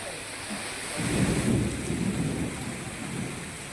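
Steady rain falls in Gujarat while a deep roll of thunder swells and fades in the middle, with the wash of rain continuing under it.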